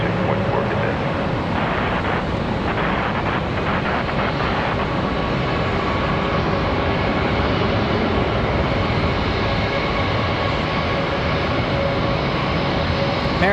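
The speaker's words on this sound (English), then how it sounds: "American 750 off to Las Vegas in A321." An American Airlines A321 jet departing Charlotte airport gives a loud, steady broadband engine roar that stays constant from start to finish, with faint talk early on.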